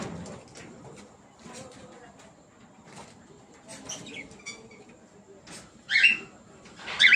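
Chirping and cooing calls from a lovebird as a female lovebird is handled at a breeding colony cage, soft calls under quiet talk with two sharper, louder bursts near the end.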